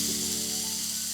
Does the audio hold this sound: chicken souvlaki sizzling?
yes